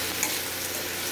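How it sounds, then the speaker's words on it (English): Onions and tomatoes frying in a pan give a steady, close hiss of sizzling oil, loud and even throughout, with no talking. "I got onions and some tomatoes, and I'm frying it up."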